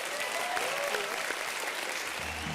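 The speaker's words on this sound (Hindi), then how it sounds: "जोरदार तालियां हो जाए भारती, करण और प्रीतम के लिए।" Studio audience applauding for Bharti, Karan and Pritam on a Bollywood comedy show, a steady dense wash of clapping and crowd noise filling the whole moment at an even level.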